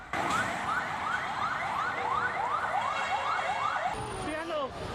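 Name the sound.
fire truck sirens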